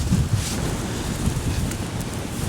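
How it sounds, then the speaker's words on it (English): Steady wind buffeting the microphone on an exposed ridge near Cave Dale and Winnats Pass, Castleton, with low rumbling gusts, fairly loud and continuous throughout. "It's quite exposed and windy."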